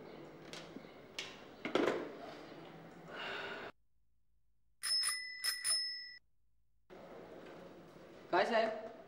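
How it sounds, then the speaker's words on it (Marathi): A bicycle-style bell rings in a few quick, bright bursts, the clear metallic tones standing out between stretches of conversation and brief breaths and sighs. "बेल वाजली का रे? वाजली ना."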